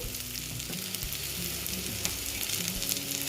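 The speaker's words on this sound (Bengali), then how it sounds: "এটা প্রায় ভাজা হয়ে গেছে এবার আমি দিয়ে দিচ্ছি এখানে" Constant crackling sizzle of spices frying in hot oil, close up, with a few faint clicks and no talking.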